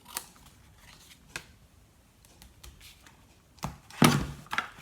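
Scissors trim card paper, a few soft snips spaced apart and then a louder cluster of sharp close cuts near the end, with no talking.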